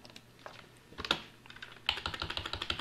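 Quick keystrokes on a computer keyboard while entering an equation in JupyterHub, with scattered taps at first and then a fast, steady run of clicks, close and clear.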